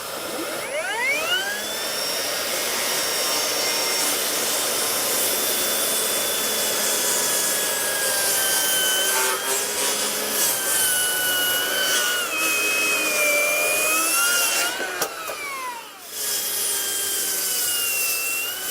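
A Makita XGT cordless circular saw making a bevel cut through a structural beam, a loud continuous high whine with the blade biting wood for about fifteen seconds, pitch sagging under load before it spins down.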